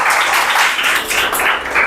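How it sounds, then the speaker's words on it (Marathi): An audience applauds to welcome a third-standard child singer, Suyash, at a school singing competition, steady dense clapping filling the short stretch at an even level. "सुयशच्या आत्मविश्वासासाठी एकदा जोराने टाळ्या होते त्याचं स्वागत करूया आपण"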